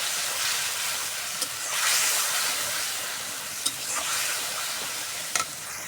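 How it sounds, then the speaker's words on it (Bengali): Spice masala with salt and cumin powder sizzling as it is stir-fried in oil, a steady hissing fry close by with occasional sharp scrapes and clinks of the stirring spoon, no voices. "এখন মশলাটা সুন্দর কষাই দিব।"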